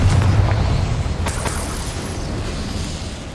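A Confringo spell explosion in the Hogwarts Legacy video game, a loud burst with a heavy low rumble that decays slowly over a few seconds, with a couple of sharp crackles partway through.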